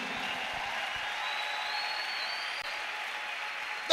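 A church congregation applauds for Jesus during a sermon, a faint, even wash of distant clapping and crowd noise that fills the hall steadily, with a thin sustained tone running over it and a brief louder burst at the very end.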